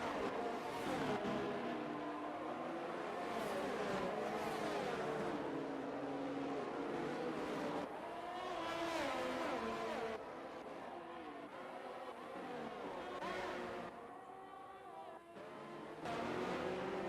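Race cars with engines droning and revving as they lap the Bahrain Grand Prix circuit in a racing video game, a continuous loud engine roar that shifts pitch with acceleration and passing cars throughout.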